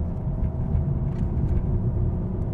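BMW M135i engine running with a steady low rumble, close and continuous throughout, with no voices over it.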